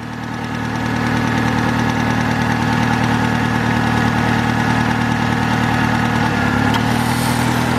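A 1997 Saturn SL1 1.9 engine idles with a steady mid-low hum and a faint knocking rattle, joined near the end by the A/C compressor clutch engaging, which brings a brief high click and a change in the low drone.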